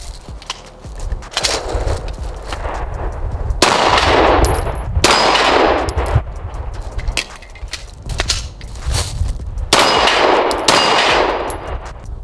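A pistol fitted with a Recover Tactical 20/20 stabilizing brace fires loud, sharp shots in several separated bursts, with metallic clanks and handling noises of reloading in between, close and outdoors-sounding.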